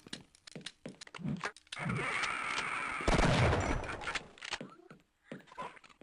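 Sustained bursts of rapid alternate-fire gunshots from a weapon in the Half-Life mod Xen's Horror, loud and dense for a few seconds, framed by scattered shorter shots and thumps with brief talk around them.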